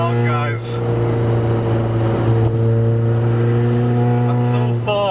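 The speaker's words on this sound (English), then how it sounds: "Exhaust is a bit too loud, guys." A tuned Ford Fiesta ST engine drones loudly and steadily as the car accelerates through the gears, its overly loud exhaust roaring and humming close by without a break.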